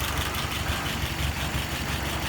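A car engine idles at about 680 rpm on a work bench setup, a close, loud, even low rumble with steady rhythmic pulsing and no talking.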